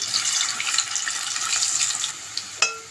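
Boiled colocasia pieces deep frying in hot oil for an egg and colocasia curry, giving a continuous bright hissing sizzle close by, with a clink near the end.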